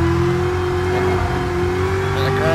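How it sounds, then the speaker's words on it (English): A car engine runs loud and close with a steady drone whose pitch slowly climbs, as if gently revving, continuous throughout. "In a car like Daddy's Camaro."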